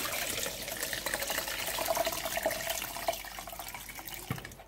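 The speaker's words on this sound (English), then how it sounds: "So I want to be washing it as if you are washing your beans" Soybeans being washed by hand in a basin of water, a steady close sloshing and splashing with running-water texture throughout and a few sharper splashes, no talking.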